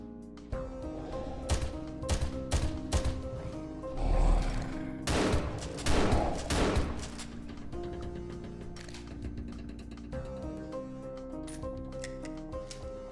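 Shotgun blasts and rapid gunfire rip through a sci-fi shooter as a player fights aliens aboard a derelict ship, with loud bursts clustered mid-stretch over layered game sound effects.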